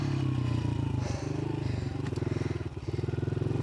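A 150 four-stroke dirt bike engine runs close by with a steady throbbing idle and rapid pulsing firing rhythm throughout, dipping slightly and rising again, loud and continuous with no talk over it.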